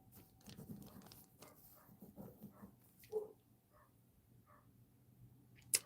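A dog in a neighborhood yard behind a fence gives soft whimpers and a few faint yips and barks, with quiet low background noise between the sounds.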